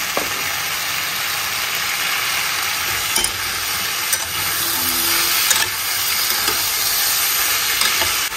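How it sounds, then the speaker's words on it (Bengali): Vegetables with peas fry in a pan, a steady close sizzle with soft stirring scrapes and a few brief clicks throughout, no talking. "সবজিগুলো ভেজে নিই। সবজিটা ভাজা হয়ে গেছে, একটু মটরও দিয়ে দিলাম।"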